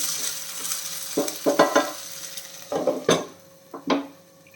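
Sautéing in a pan over a low flame while making bindhi bhujiya: intermittent scraping and stirring strokes of a spatula against the pan, clustered in short bursts over a faint steady sizzle, close and fairly clear.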